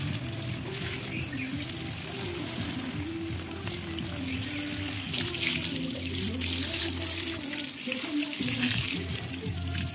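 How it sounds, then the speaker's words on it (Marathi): Water splashes steadily from a hose or pitcher onto potted garden plants, a continuous close, fairly loud rush and trickle with a brief voice murmur beneath it. "सगळ्या झाडांना असं पाणी घालून घेतलेलं आहे, आणि पाणी घालताना आवाज वगैरे किती भारी येतो नाही का"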